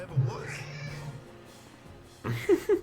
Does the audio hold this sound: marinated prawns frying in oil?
no